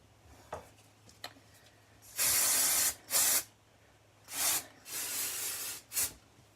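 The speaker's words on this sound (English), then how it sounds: "I got this new hairspray too. If you haven't tried it, Living Proof's Full Dry Volume Blast." Living Proof Full Dry Volume Blast hairspray sprayed from an aerosol can in several hissing bursts of varying length, close and loud, separated by short pauses and faint handling clicks.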